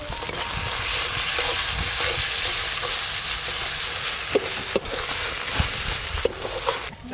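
Ginger-cumin paste, dried chili paste, turmeric, chopped tomato and salt sizzle with onion in a hot pan, a loud steady frying hiss broken by occasional scrapes of stirring.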